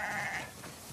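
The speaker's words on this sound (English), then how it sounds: "A lot of sheep." Sheep on a farm in the video game The Last of Us Part II give a single short, fairly faint bleat.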